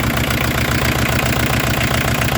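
A Peugeot 205 TD diesel engine idles up close, a loud, dense clatter with an even, rapid knocking pulse that sounds like it is firing on all four cylinders, steady throughout with no voices.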